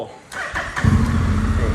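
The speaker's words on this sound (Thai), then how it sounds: "เสียงเครื่องยนต์นะครับ แล้วก็เสียงท่อเสีย" A 2015 Honda NM4 motorcycle fitted with a genuine Akrapovic exhaust cranks and starts, its engine catching into a deep, close, steady rumble after a few starter clicks.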